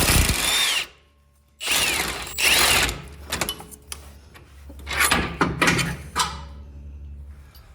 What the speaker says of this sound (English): using the same 18mm socket, I'm gonna go ahead and remove the bolt securing the control arm to the axle